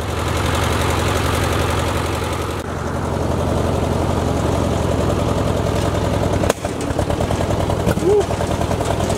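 A tractor engine runs steadily after a carburetor adjustment, a loud close chugging idle with a sharp backfire-like crack partway through.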